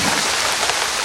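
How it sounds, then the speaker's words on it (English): Gentle rain falls steadily on the windward side of Hawaii, a dense, even hiss of drops up close with no voices. "the clouds are cooled and a gentle rain falls."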